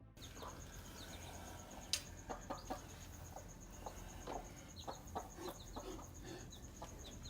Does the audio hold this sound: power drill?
no